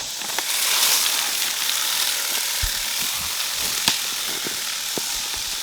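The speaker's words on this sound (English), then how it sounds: "We're going to broadcast some seed. I just got a hand seeder." A hand seeder for a no-till food plot scatters seed with a steady crank-driven hiss and rattle, broken by scattered clicks and light ticks close by.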